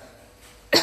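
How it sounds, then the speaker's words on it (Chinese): A single sharp, close cough from a patient on the second day after surgery, rising abruptly out of near silence at the very end. "现在还是得多咳嗽"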